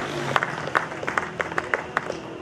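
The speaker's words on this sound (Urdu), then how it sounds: "آپ سب کی تالیاں ہوں گی" Audience clapping at a ceremony in Pakistan, a sparse, uneven patter of individual hand claps over a background murmur of voices.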